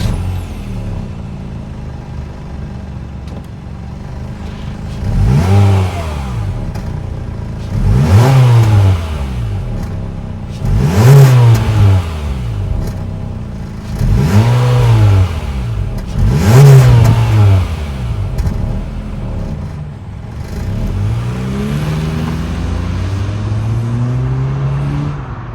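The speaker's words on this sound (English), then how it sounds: "that was the sound of the 2-liter 4-cylinder sold by Honda for the 2023 Civic Sport" A 2023 Honda Civic Sport hatchback's 2-liter four-cylinder revs five times in a row, each loud, near blip rising and falling back to idle, followed by a longer, steadier climb in engine pitch.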